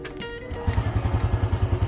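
A 1991–1993 Honda Astrea Grand motorcycle engine idles close by with a smooth, even rhythmic putter, following a brief clatter at the start, and there is no talk.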